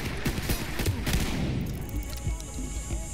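A Five-seveN pistol firing in the tactical shooter game Ready or Not, a rapid burst of close, sharp shots in the first second and a half, then ringing room tone and more distant gunfire.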